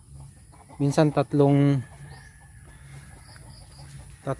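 Several chickens at a Filipino yard give a few short, loud clucking calls close by, followed by quieter rustling; a person speaks briefly.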